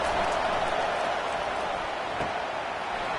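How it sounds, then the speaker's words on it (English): Crowd noise fills a football stadium in a video game as the home fans get loud for the defense on third down, a steady dense roar with no breaks. "Decibels rising as the crowd gets behind this defense on 3rd down"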